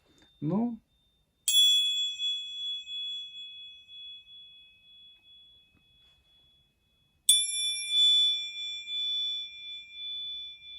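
Two sharp metallic strikes set a steel tank fender-skirt plate ringing, each leaving a bright, sustained tone that slowly fades; a brief voice sounds just before the first.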